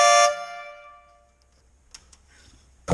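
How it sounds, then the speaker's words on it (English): A Jeep Cherokee's stock car horn gives a short, loud honk at the very start, then fades into quiet background with faint clicks and a brief final burst. "Jeep still has the normal horn"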